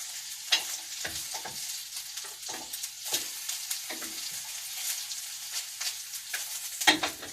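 Celery root, pak choi, mushrooms and potatoes are tipped into a simmering perpetual stew pot and stirred, with a steady low sizzle and bubbling under repeated scraping and clattering strokes, close and alone.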